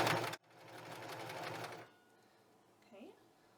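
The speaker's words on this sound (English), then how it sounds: "So this I am going to backstitch." Domestic sewing machine running a short backstitch on dress fabric, a steady motor whir for under two seconds after a sharp start, then a pause with faint handling noise.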